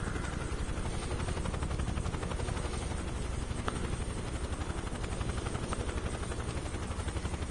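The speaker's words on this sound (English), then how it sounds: "My helicopter is right here." A steady, rapid chopping helicopter rotor thrum in Microsoft Flight Simulator 2024 over the Grand Canyon, continuous and fairly close, with no speech.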